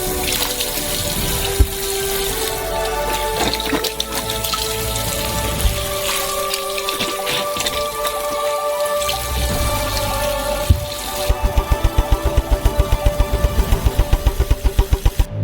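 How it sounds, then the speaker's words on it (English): Oranges being washed in a sink of water: continuous splashing and sloshing with clattering bumps, ending in a run of rapid rhythmic knocks near the close, with no talking. "And each orange needs to be thoroughly washed."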